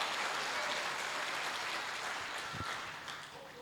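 Applause from a church congregation, a dense steady patter of many hands clapping that fades slightly toward the end.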